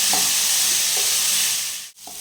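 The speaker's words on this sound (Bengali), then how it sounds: "এই দেখুন ছোলার ডালটা আমার কিছুটা ভাজা হয়ে গেল" Chana dal fries in a pan, giving a steady bright sizzle with a few soft stirring scrapes, close and continuous, with no voices.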